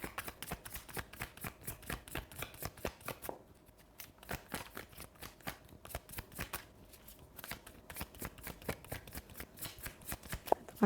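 Tarot cards are shuffled close up and quietly, with rapid, rhythmic riffling clicks in repeated bursts and brief pauses between them.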